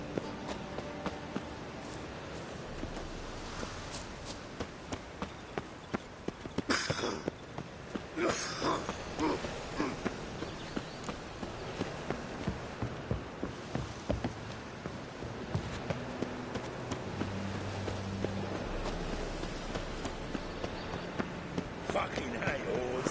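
A horse's hooves galloping in the open-world game The Witcher 3, a fast, steady clatter of hoofbeats running through the whole stretch under ambient game sound, with voices talking over it.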